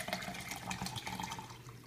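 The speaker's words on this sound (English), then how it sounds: "Dump it in the blender bottle" Water poured from a standard 16.9-ounce water bottle into a blender bottle, a steady close splashing and gurgling stream that runs continuously without pause.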